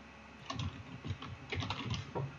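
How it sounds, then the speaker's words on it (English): Quick typing on a computer keyboard, a short burst of soft, close key clicks in uneven clusters over a quiet background, with no talk. "I'm just going to type in"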